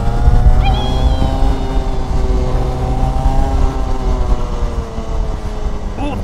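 Go-karts race and drift around a corner of a track, engines droning steadily with rising and falling whine throughout, a brief higher screech near the start and end.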